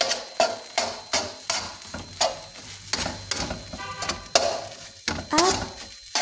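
Bread crumbs stirred and fried in a pan, with repeated scraping stir strokes over a steady sizzle and a few clinks of utensil against metal, close and fairly loud.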